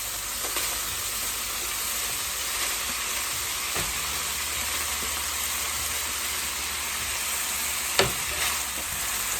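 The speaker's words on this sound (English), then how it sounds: "All right, switch to the spoon. Let's add some more stuff. Let's add our peppers and our onions." Chopped peppers and onions sizzle steadily in a hot pan with a constant frying hiss, while a spoon stirs and scrapes the pan now and then, including one sharper knock near the end.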